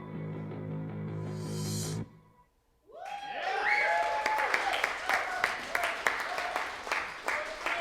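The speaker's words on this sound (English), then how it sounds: "Thank you very much. No applause needed." Applause at an open mic night arts venue follows a sung passage, breaking out after a short pause as scattered, fairly close clapping mixed with voices and cheers.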